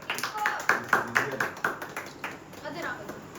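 A few people clap in short uneven bursts at a birthday cake cutting, mixed with excited talking over the claps.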